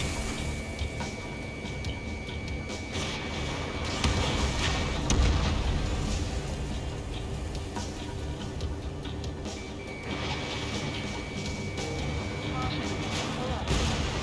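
Anti-air gun emplacements are blasted in the combat flight game Ace Combat 7 during a rescue mission, with rolling explosions and bursts of gunfire over a constant engine roar, and a loud boom around the middle.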